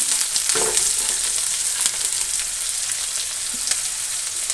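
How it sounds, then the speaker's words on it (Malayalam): Chopped onions dropped into hot oil left from frying chicken, sizzling steadily and close up with a bright crackling hiss, occasional stirring scrapes and pops, no voices. "നമ്മൾ ഈ പൊരിച്ച എണ്ണയിലേക്ക് തന്നെ ഇട്ട് കൊടുക്കുക"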